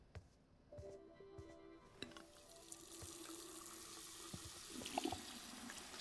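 Water runs steadily from a tap as characters wash their hands in the video game Life is Strange 2. The flow is soft and continuous, with a few light clinks near the start, and no one speaks.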